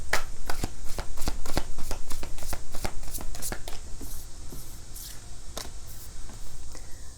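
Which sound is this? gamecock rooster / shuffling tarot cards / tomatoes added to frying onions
shuffling tarot cards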